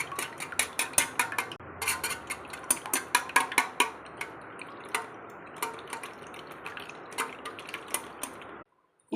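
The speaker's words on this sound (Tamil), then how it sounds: "முட்டையை நல்லா இந்த மாதிரி அடித்து எடுத்துக்கோங்க." Eggs being whisked in a bowl, a rapid run of sharp clicking and tapping strokes in quick bursts, close and fairly clear, with a brief pause midway and silence at the end.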